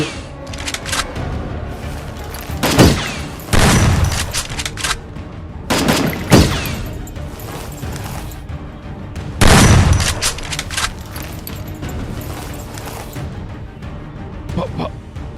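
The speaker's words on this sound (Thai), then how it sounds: "เสียงปืนดังขึ้นท่ามกลางความเงียบ" Staged gunfire in a Thai audio drama set in a hunting adventure: a burst of shots followed by return fire from a hunter's gun, several loud cracks clustered in two or three bursts over dense background sound effects.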